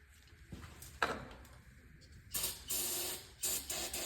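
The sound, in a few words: brake cleaner spray on engine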